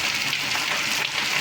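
Freshly washed drumstick leaves fry in a pan, giving a steady, close, broadband sizzle with a light crackle. It holds evenly for the whole short stretch and no one speaks over it.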